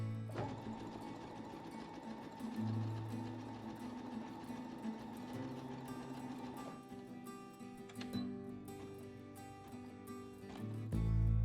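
A Brother SE2000 sewing machine stitches through denim jeans, its motor running in a steady, even mechanical hum with rhythmic needle ticking, close and alone, pausing briefly near the end.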